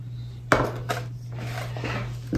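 A spoon clinks against a container while creatine powder is stirred into water, with a few sharp taps and scraping swirls. A steady low hum runs underneath.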